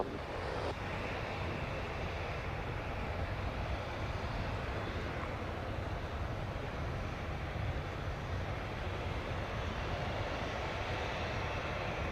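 A United airliner takes off from a wet runway at Montego Bay, Jamaica, its engines roaring in a loud, continuous rush that holds steady throughout, with no voices.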